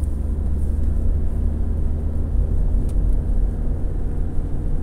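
Turbocharged car engine pulling steadily in second gear at about 2000 rpm during calm driving, a continuous low rumble that holds close and even throughout with no talk.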